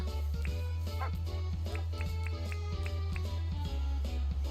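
A dog barks and yips in the video game Dinkum, several short, sharp, fairly quiet barks scattered over a steady low hum and soft game sounds.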